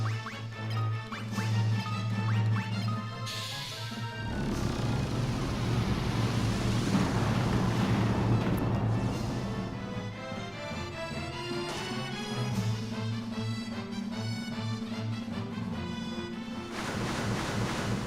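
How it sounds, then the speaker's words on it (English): Ocean waves in Final Fantasy II make a steady, broad washing roar that swells and recedes over the clip, with game music underneath. "Waves!"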